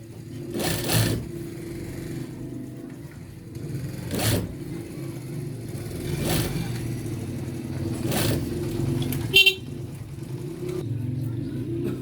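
A sewing machine stitches a men's shirt collar and button tack: short motor bursts about every two seconds over a low steady hum.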